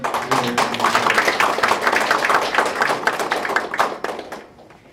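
A burst of lively applause from a group at a university president's inauguration ceremony, many quick overlapping claps, fading out at the end.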